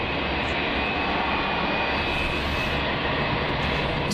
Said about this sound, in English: A350 there, China Southern.